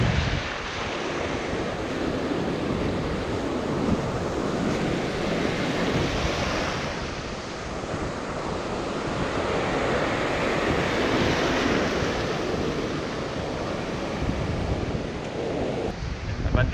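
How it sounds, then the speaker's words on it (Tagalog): Big waves roll and surge on the open sea during a fishing trip for brassy trevally, a dense, continuous roar with wind buffeting the microphone throughout. "Laki ng alon, no?"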